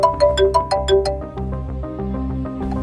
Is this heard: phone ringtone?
yes